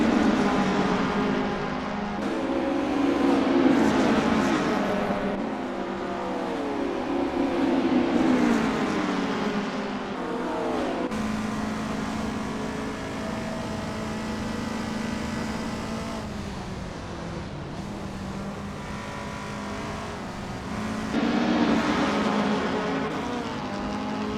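A pack of 1000cc Dwarf race cars roars around a track, engines droning and swelling as they pass close, revving and fading in waves over a steady mechanical hum.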